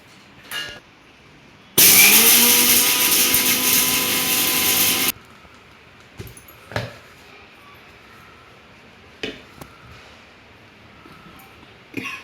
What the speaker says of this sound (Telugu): వీటిని మిక్సీ పట్టుకుందాం